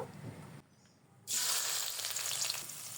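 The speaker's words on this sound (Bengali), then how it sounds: "কড়াইয়ে তেল গরম করে নিয়েছি এখন পেঁয়াজ দিয়ে দিব" After a brief quiet moment, onions hit hot oil in a wok and erupt into a sudden loud, bright sizzle that stays steady and close to the end.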